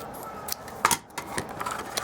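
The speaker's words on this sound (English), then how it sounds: "I'm going to use my scissors for this and measure it out" Scissors snip through paper for a shabby-chic craft box, a quick series of crisp close cuts and rustles, several snips in irregular rhythm over low room noise.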